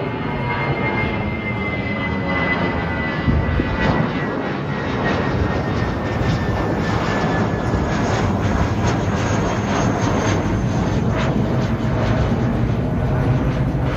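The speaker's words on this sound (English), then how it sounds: "So there is some airplane noise." A low-flying airplane passes over the Sandals Royal Caribbean beach resort, its loud, steady engine roar sustained throughout with a slowly falling whine and no voices present.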